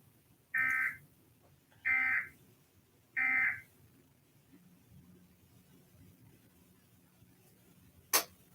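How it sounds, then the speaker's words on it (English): Three identical loud electronic beeps, evenly spaced about 1.3 seconds apart, from an Emergency Alert System test tone on a TV news channel, then a quiet room hum and a sharp click near the end. "This is a test of the emergency alert system."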